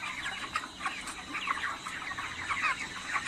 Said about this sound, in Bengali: ধরি মুরগি।